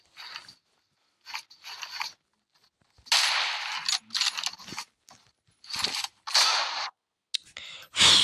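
Unsuppressed gunshots in PUBG, sharp loud cracks arriving in irregular bursts and single shots separated by near-silent gaps, crisp and close.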